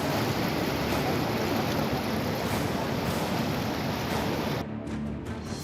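Flood water rushes through the streets of Khatima in a continuous loud roaring wash, then drops suddenly in level near the end as the sound changes.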